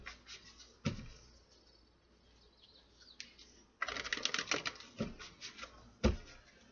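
Tarot cards being shuffled in a quiet room: soft riffling and papery flutters with a few sharp snaps as the deck is squared, close and fairly quiet, with no voice.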